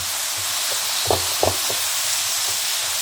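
Butter sizzles in a pan while ground beef kebab cooks, a steady close hiss throughout with a few soft knocks and pops near the middle.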